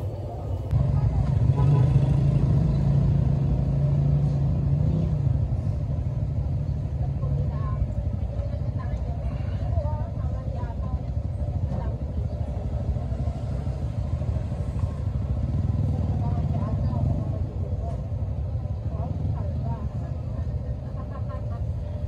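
Roadside street traffic beside a corner fried-chicken stall, with tricycles and motorcycles making a constant dense engine rumble and road noise the whole time, and people talking over it.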